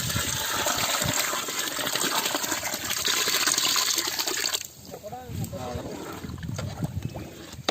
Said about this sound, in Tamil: தண்ணி எவ்வளோ வேணுமோ அந்த அளவுக்கு நான் எடுத்து வச்சிருக்கிறேன் அதை நான் வந்து சேர்த்துக்கிறேன்